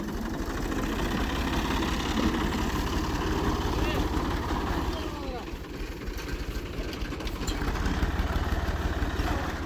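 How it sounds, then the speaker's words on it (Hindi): Tractor engine running steadily as it drives ahead through a rice field during harvest, a continuous mid-low rumble filling the scene, close and fairly loud. "अब इकबाल भाई ट्रैक्टर लेके आगे की तरफ जा रहे हैं"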